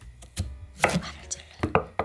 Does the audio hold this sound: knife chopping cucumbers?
yes